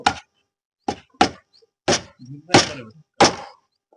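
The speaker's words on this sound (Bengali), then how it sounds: "এখন আমরা মারছি কাটা" A hammer driving nails into wooden shuttering for concrete casting on a building site: six sharp, close knocks at uneven intervals, with a faint voice briefly between strikes.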